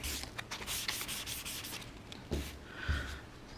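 Primer being sanded flat on a car panel with a flat sanding block, a continuous close scratchy rubbing with quick back-and-forth strokes and a couple of soft knocks.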